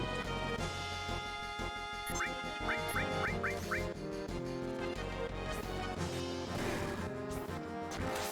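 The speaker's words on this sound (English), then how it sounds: "Geese." Geese in Final Fantasy 7 let out a run of five quick, bright honking quacks in a row over looping game music that carries through the whole stretch.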